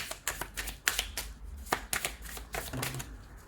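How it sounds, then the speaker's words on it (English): A deck of tarot-style cards is shuffled by hand, a series of quick papery riffles and soft slaps in irregular bursts, close and fairly quiet. "I'm gonna shuffle these cards to see if we can get more clarification on this."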